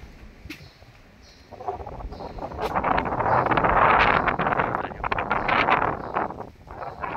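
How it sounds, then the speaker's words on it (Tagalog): Strong wind blowing at Villas Buena Vista hotel resort in San Juan, La Union, a steady roaring rush that builds and buffets the microphone, loud and close with occasional faint knocks beneath it. "Sarap dito, unang-una lakas ng hangin."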